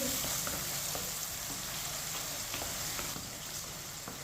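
Tomatoes with green chilli cook in a pan for chana dal, giving a faint, steady sizzle with light scraping from a spoon stirring now and then.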